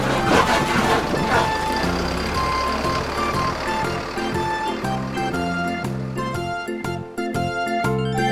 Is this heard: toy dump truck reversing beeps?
yes